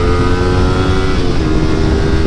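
A 12-year-old motorcycle's engine runs steadily at close range, a loud, even idle-to-mid rev drone with no pauses.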